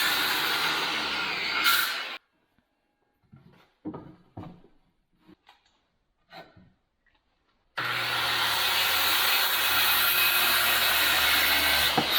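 A power saw cuts 2x4 lumber in a workshop, a loud whining, buzzing cut at the start, a quiet stretch of scattered knocks and handling clatter, then the saw roars again through another piece.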